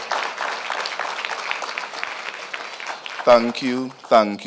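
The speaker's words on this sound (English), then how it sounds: "rousing round of applause, how much we enjoyed this experience this morning with Dr. Mark Milliron." A conference plenary audience applauds for about three seconds, a steady rustle of clapping hands, before a voice begins speaking over the tail of it.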